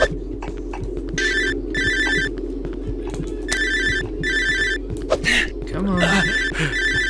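A telephone rings in the horror video game Cear of Fear, repeated electronic trilling bursts at a steady rhythm over a low ambient hum, with occasional clicks and a player's voice mixed in.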